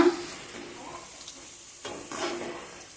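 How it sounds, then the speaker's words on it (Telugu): Onion pakodas deep-fry in hot oil over a low flame, giving a soft, steady bubbling sizzle with a few slightly louder swells. "ఇంకా కొంచెం వేగాలి ఆయిల్ ఇట్లా గోల్డెన్ బ్రౌన్ కలర్లోకి వచ్చేరకల్లా తీసేసుకోవాలండి"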